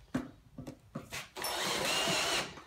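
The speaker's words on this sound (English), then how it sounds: "I've put the drill on a slow speed" An electric drill at slow speed bores into metal while building a skateboard quarter pipe: three short bursts followed by a longer sustained whirring grind, close and fairly quiet.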